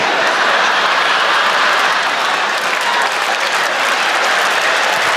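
Loud, sustained audience applause fills a stand-up comedy show, a dense wash of clapping from a large crowd that holds steady throughout without any talk over it.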